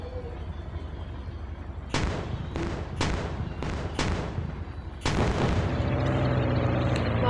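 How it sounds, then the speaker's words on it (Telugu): A military tank fires in a video game, a rapid run of five heavy booming shots followed by a larger blast that rumbles on, all over a constant engine drone. "బాంబులు వేల్చుకుంటూ వెళ్తున్నాను నేనైతే"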